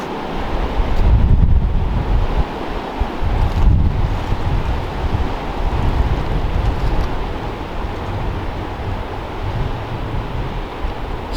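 Strong wind roaring through hilltop woods in New Hampshire, a loud continuous rushing with gusts that swell and ease, buffeting the microphone, no voices.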